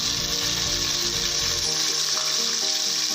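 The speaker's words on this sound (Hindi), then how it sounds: "ऑयल गर्म हो चुका है, अब वो प्याज शामिल करेंगे" Onions hitting hot ghee set off a loud, steady frying sizzle that holds close and continuous throughout, with a faint low rumble early on and no talking.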